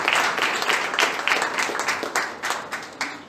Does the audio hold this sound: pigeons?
no